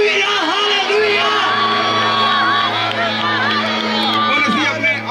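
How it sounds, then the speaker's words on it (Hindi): Massed voices at a Christmas procession yell and cheer loudly and continuously, with crowd shouts swelling and dipping throughout. "तालियों के साथ बोले हालेलुया, बोलते जाए हालेलुया"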